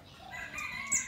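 A rooster crows briefly in a rural village yard on a quiet Lunar New Year morning, a short moderately distant call with some background birds.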